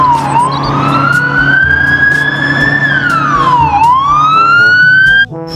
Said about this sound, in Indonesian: ini mobil polisi patroli.